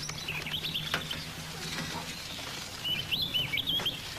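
A small bird set free in a roadside scene chirps in two short bursts of high, quick tweets, one near the start and one near the end, over a steady background hiss.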